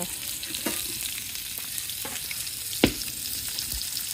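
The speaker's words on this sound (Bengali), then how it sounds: "এই যে আলু ভেজে নিতেছে" Potatoes frying in a pan give a steady, close sizzle, with a few stirring scrapes and one sharper knock partway through, and no talk.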